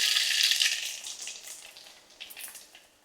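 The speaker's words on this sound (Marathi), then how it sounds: "तेल तापलंय. आता आपण टाकूया मोहरी, त्यानंतर जिरं" Mustard seeds and cumin crackling in hot oil in a cooking pot, a bright, close spitting sizzle that starts strong and gradually tapers off.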